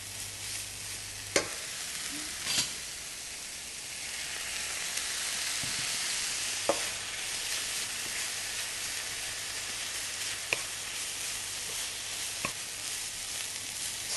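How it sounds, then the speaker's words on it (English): Grated coconut filling cooked with pandan for kuih dadar is stirred in a hot pan, giving a steady soft sizzle and hiss with occasional sharp scrapes and taps of a utensil against the pan. "Continue stirring."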